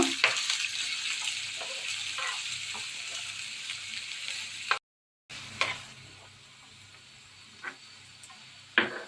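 Onions for mutton pepper fry sizzle loudly in hot oil, a close, continuous frying hiss broken by a brief dropout, with occasional spoon clicks against the pan.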